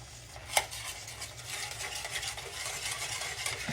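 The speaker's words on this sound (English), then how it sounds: "I'm going to slowly add my milk" A spoon stirs whole milk into asparagus chowder in a pot on the stove, giving soft, steady scraping and swishing with one sharper clink early on, close and quiet, with no talking.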